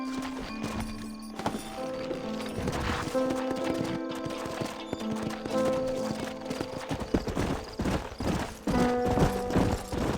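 Horse hooves clip-clop steadily in the Western video game Red Dead Redemption, with a neigh and faint gunfire mixed in over a tonal music bed.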